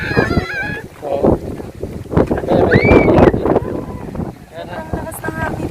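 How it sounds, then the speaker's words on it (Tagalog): Strong wind gusts buffet the microphone on a hilltop at Digos Hills in Bulacan, loud, uneven low roaring that rises and falls, while people talk over it. "Napakalakas na hangin dito."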